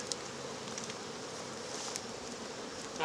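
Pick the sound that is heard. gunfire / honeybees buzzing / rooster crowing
honeybees buzzing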